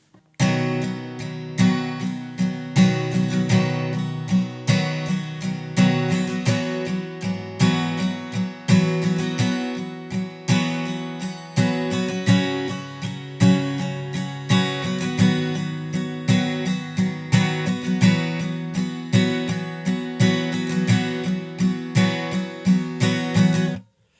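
Acoustic guitar strumming the verse chords of a song in a steady pattern, loud and close, with a regular rhythmic pulse and chord changes throughout, no voices.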